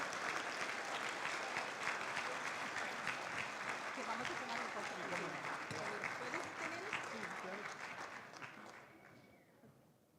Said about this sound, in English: one more round of applause for Anila and Carlos, everybody